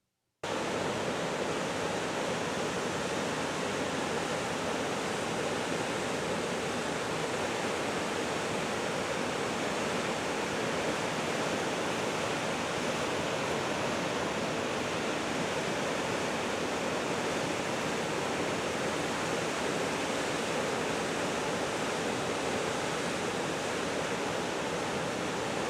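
The falls at the Idaho Falls hydroelectric dam on the Snake River roar in a dense, unbroken wash of noise, loud and constant, with no voices.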